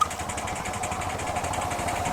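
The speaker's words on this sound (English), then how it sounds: "Good to see these little engines, they're still coming in." A miniature 4-inch scale steam traction engine runs at an outdoor rally, a steady close mechanical chuffing with even rhythmic beats holding throughout the moment, with no talking.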